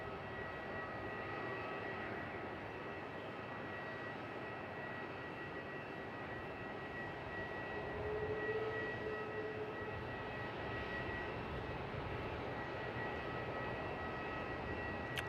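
A Malaysia Airlines Airbus A330-900neo jet at Melbourne Airport at night gives off a steady, distant engine rumble and whine, faint and continuous, with a slight swell partway through.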